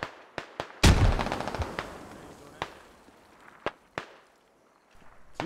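Video game combat during a squad operation: a loud burst of explosion-like impact followed by scattered sharp gunshots, some near and some distant, with quieter gaps between.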